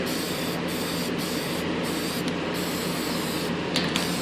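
A continuous hiss of spray paint from an aerosol can fills the clip, loud and close, with a few brief breaks in the stream, while painting an RC glider.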